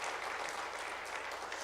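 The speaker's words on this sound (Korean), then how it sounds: "우리 박수로서 우리 힘차게 사역을 위해서 격려해 주시기 바랍니다" A short burst of applause from a church congregation during a Sunday service, a dense, even patter of many hands clapping at a moderate distance.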